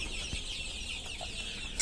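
On a small backyard farm, a flock of young hens and roosters clucks continuously nearby, with a louder squawk near the end standing out from the steady chatter.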